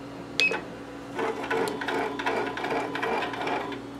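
An e1501c embroidery machine shifts its needle head to another needle with a sharp click, then a run of clattering mechanical ticks and whirring as the head moves, close and moderately quiet.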